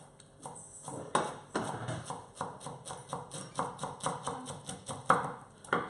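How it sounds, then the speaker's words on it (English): Knife strokes chop food on a board in a kitchen, a steady run of quick, crisp, evenly paced taps at close range, fairly soft, with faint background murmur. "The chopping?"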